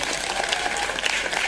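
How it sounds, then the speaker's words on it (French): A church congregation applauds for the Lord in a dense, continuous wash of many hands clapping at once. The applause is steady and moderately loud, with no clear voices rising above it. "Applaudis pour le Seigneur."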